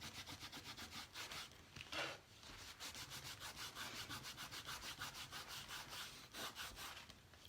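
Chalk is wiped off a counter surface, giving a soft, faint, steady back-and-forth rubbing with a regular rhythm and a brief pause midway, no talking.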